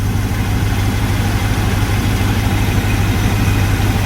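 A Chevy 1-ton tow truck engine idles steadily and loudly up close, a continuous low rumble with an even throb and no talking over it.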